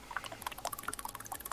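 Someone drinking water close to a sensitive microphone, a series of small wet gulps and trickling, pouring-like splashes in quick irregular succession, quiet but intimate and close up.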